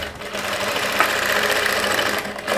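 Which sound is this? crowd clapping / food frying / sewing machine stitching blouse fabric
sewing machine stitching blouse fabric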